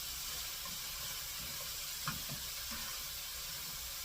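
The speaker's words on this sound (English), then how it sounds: "We are going to get a spoon, obviously, to stir this stuff up." A spoon stirs a sizzling fajita mixture in a pan, giving a steady quiet hiss and crackle with faint scraping, alone with no talk.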